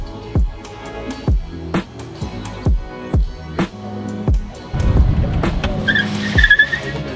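A tire squeal sound effect repeats in a fast series of sharp, short screeches with a choppy, rhythmic pattern, loud and close, followed by a longer rougher skid and a final flurry of high squeals.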